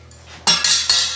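Knife chopping potatoes on a cutting board while making Asian-style shepherd's pie: three sharp, close chops in quick succession, each a crisp knock with a brief ringing tail, no talk over them.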